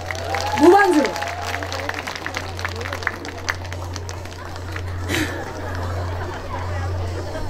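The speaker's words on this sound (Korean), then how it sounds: "박수 한번 주세요." Audience applause at an outdoor arts festival stage show, a burst of clapping near the start that fades into a steady low hum and crowd murmur while a host talks over it.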